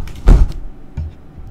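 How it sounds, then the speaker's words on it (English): A binder smacked accidentally right beside a microphone gives a loud, close, dull thump, followed a moment later by a softer second knock. "But I accidentally smacked the binder."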